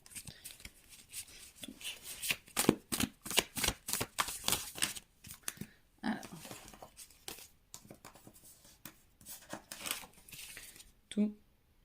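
Tarot cards riffled and shuffled by hand in repeated quick bursts of papery flutter and snapping, close and fairly quiet, with brief pauses and soft speech in between.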